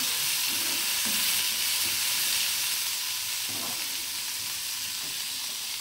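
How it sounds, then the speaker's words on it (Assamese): Steady sizzling of spices frying in hot oil for a fish and sour fruit curry, a continuous crackling hiss with a few soft stirring scrapes, close and fairly loud, no voices. "এইখিনি ধুনীয়াকৈ ভাজি ল'ম এতিয়া"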